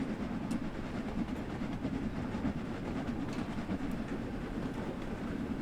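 Coal-fired steam locomotive in a train driving video game building up speed, a steady continuous rumble of rolling wheels and rail clatter at even loudness throughout, with no talk.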